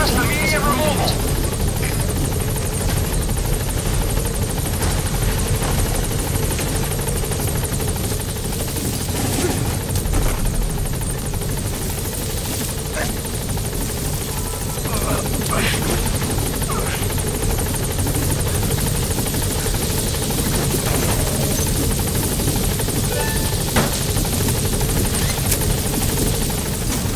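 A support helicopter arriving at a landing zone in the Metal Gear Solid V video game, its rotor thumping and turbine whining continuously and loudly throughout, with voices talking over the steady drone.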